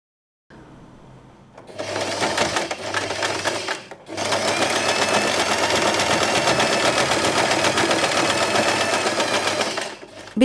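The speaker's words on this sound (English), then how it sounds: "I like to sew a temporary stitch here and then just sew this part" A sewing machine runs stitching slippery satin fabric for a bow, a short burst of rapid mechanical whirring that pauses briefly, then a longer steady run of close, loud stitching.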